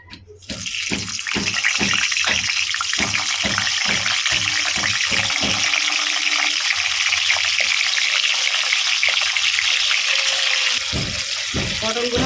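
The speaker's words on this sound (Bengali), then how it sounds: "পটলগুলো ভেজে নেবো" Pointed gourd (potol) frying in a pan with green chillies and ginger: a loud, steady sizzling hiss that runs almost the whole time, with a few soft knocks near the start.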